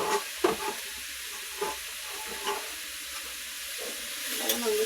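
Salt and turmeric being stirred into food frying in a pan: a soft, steady sizzle broken by a few brief scraping strokes of the spoon, fairly quiet overall.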